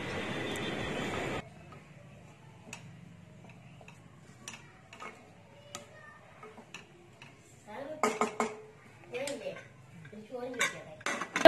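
A cooking pot on a low flame gets covered with its lid in a home kitchen: a short burst of hissing noise, a quiet stretch with faint ticks, then several sharp metallic clanks and rattles near the end.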